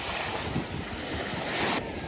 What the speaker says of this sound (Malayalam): അവരെ സ്പീഡ് ബോട്ട് ഓടിക്കുന്നുണ്ട്